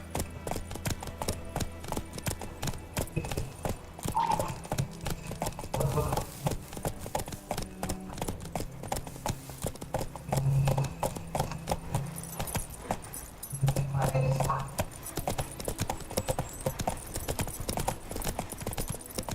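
Horse Roach trotting in the video game The Witcher 3, a steady rhythmic clip-clop of hooves with jingling tack, running throughout under intermittent talk and a few snorts.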